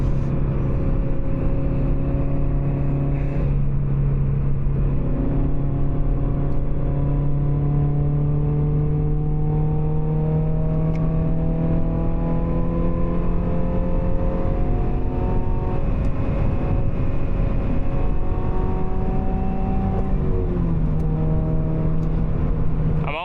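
A modest road car's engine pulls steadily under throttle through a turn, rising and falling harmonics of a loud, close, continuous drone with a faint rumble, no talking.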